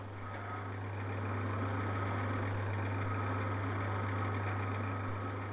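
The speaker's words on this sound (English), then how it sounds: "Now let's try the parting off again." A lathe parts off a brass piston blank in a workshop, giving a steady motor hum with a constant low drone and a faint, continuous high cutting whine, unbroken and close throughout.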